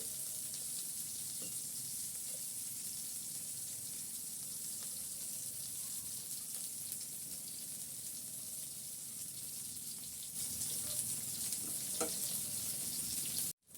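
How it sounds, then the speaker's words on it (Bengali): Cumin seeds and a bay leaf sizzling in hot oil in a pan, left over from frying onions for potato pulao, a steady low hiss throughout, faint and continuous, with a brief clink near the end and no talking. "এই একই তেলের ভিতরে আমি সামান্য জিরে দিয়ে দিলাম, আর দিয়ে দিলাম একটা তেজপাতা।"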